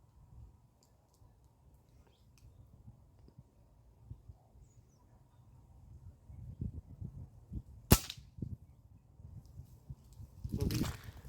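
An NX200 air rifle fitted with a scope fires outdoors in two sharp, loud cracks, the first near the middle and the second at the end, against quiet background ambience with faint rustling and a few small knocks.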